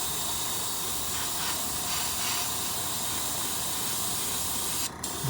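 Paint spray gun laying down a light coat of custom paint onto a spoon, a steady close broadband hiss running unbroken with no talking, briefly cut off near the end.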